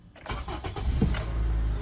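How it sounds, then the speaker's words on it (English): A 2011 Honda CR-V, one that has been stalling after refuelling, cranks briefly with a rapid whirring churn and then catches into a steady, close engine idle. "Oh, started up okay."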